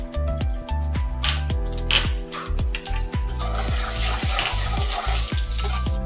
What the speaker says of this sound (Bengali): ফোড়নে দিচ্ছি 2টো তেজপাতা, দিয়ে দিচ্ছি